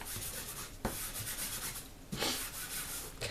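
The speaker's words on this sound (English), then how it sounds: "what I'm going to do here is use my embossing buddy over the top of it" An embossing buddy is rubbed over card stock in soft, close scraping strokes with brief pauses between passes.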